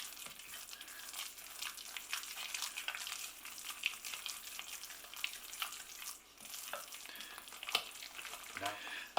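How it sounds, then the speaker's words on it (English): A spoon stirs courgette bran cake batter mixed with vanilla extract, making a continuous soft scraping and swishing close by, fairly faint, with occasional sharper taps against the bowl. "Let's give that a good mix."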